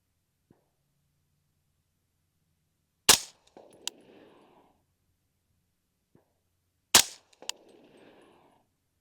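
LWRC M6A3 DMR rifle firing, with two sharp, loud reports about four seconds apart, each followed by a short echoing tail and a faint metallic clink.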